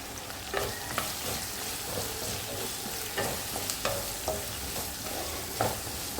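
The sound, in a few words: ginger garlic paste stirred and sautéing in a pan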